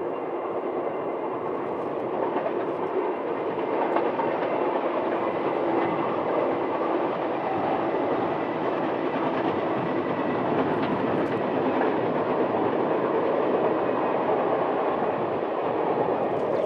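Union Pacific 844 steam locomotive pulling a train out of Rock Springs, a steady, loud rolling roar of rail cars with faint clickety-clack over the track, continuous and close throughout.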